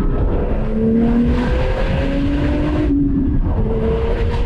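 A 1996 Porsche 911 Turbo (993) built to GT spec, driving under load: the engine note climbs steadily through the revs, drops with a shift, then climbs again, loud and close, with no talk.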